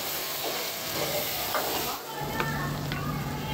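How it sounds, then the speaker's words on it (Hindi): Tadka tempering for dal of tomato, turmeric, salt, coriander and amchur sizzles loudly in a pan, a close, steady frying hiss with a few brief stirring noises. "तड़का दे रही"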